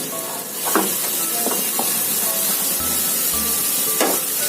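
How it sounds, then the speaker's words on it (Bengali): Egg curry masala sautés in a pan with a steady close sizzle and hiss, broken by occasional scraping stirs of the spoon, with no voices. "এটাকে একটুখানি কষাতে হবে।"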